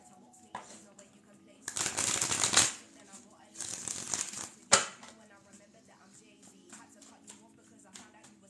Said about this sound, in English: We cut the deck. We clear it. We let it rest.